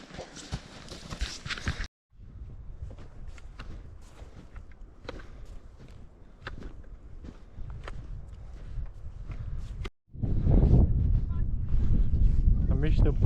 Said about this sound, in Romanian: Aici bate puțin vântul, însă să continuăm spre pădure și o să fie adăpost.